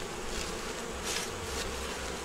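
Honeybees swarm around an open hive frame holding brood, honey and pollen, a steady close buzz humming throughout with no talk.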